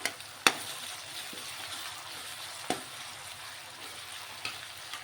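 Small tomato pieces fry in a pan with a soft, steady sizzle, broken by a few sharp clinks and scrapes of stirring, close and moderately loud with no voices.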